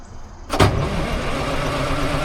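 A 1940s crane that sat unused for over ten years runs its old engine, a sharp clunk giving way to a steady rough rumble as throttle is added.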